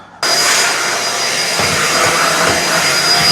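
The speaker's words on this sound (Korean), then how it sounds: "청소기를 돌리고" A vacuum cleaner switches on abruptly and runs loud and close, vacuuming the floor of a rental lodging during cleaning before guest check-in, with a steady whine and a roar that shifts slightly as it moves.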